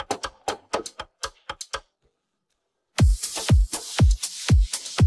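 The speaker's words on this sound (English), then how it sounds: "drums I think are really good" Sharp, punchy drum hits in a quick rhythm, then a short silence, followed by heavier hits with deep booming low end, loud and close with no other instruments.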